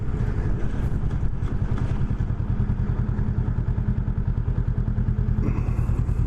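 A Honda Rebel 500 motorcycle rumbles along at low speed, its engine beating out a steady, even throb close to the microphone, with faint clatter and no voices over it.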